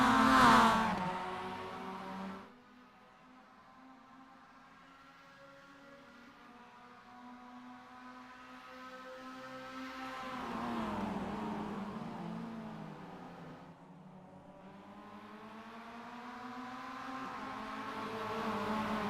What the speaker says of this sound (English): You can hear the revving of these little motors. Hear them pinging off the rev limiter.